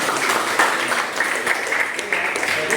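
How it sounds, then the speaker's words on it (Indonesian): Students in a classroom clap together in a steady stretch of applause at a religious studies lesson, moderately loud and continuous, with faint voices mixed in. "tepuk tangan"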